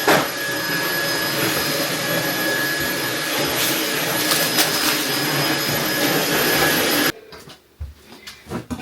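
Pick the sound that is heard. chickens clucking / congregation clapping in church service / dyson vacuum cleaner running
dyson vacuum cleaner running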